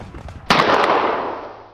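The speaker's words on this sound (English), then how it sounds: "a bullet that was meant for her, shot by his own fellow" Single gunshot sound effect in a narrated story, a sharp loud crack followed by a long decaying boom that fades out, with no talk over it.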